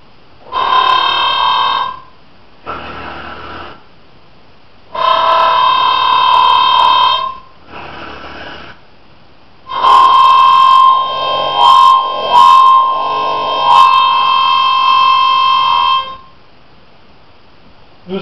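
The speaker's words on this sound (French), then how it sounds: "la langue vibre rapidement en imitant un roulement ou un grognement" A chromatic harmonica plays the flutter-tongue growl effect, with the tongue vibrating rapidly against the air flow. Several bright, buzzing sustained notes sound in separate bursts with short pauses between them, loud and close.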